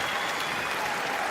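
Steady crowd applause in a boxing arena in Sheffield after a ten-round fight, a dense continuous wash of clapping throughout, with no voices standing out.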